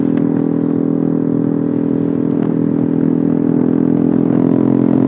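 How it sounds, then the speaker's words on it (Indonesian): A motorcycle fitted with an Eternal aftermarket exhaust idles and revs with a deep, throaty, continuous drone, close and loud throughout, with a few faint clatters and no voices. "Kalian nilai aja lah suaranya seperti apa cuy dibanding knalpot gue yang sebelumnya"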